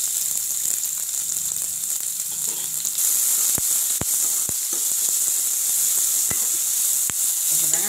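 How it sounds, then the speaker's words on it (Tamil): Onions drop into a hot pan for a vegetable soup, and a loud sizzle swells and holds steady, with a few sharp ticks and taps of a utensil against the pan, close and without talking. "இப்போ வெங்காயம் போட்டுக்கலாம்."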